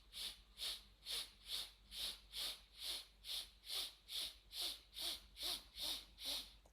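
Fourteen quick, evenly spaced sniffs through the nose, soft and close, in a steady brisk rhythm.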